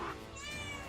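A house cat lets out one brief, rising meow close by, over a steady bed of background game music.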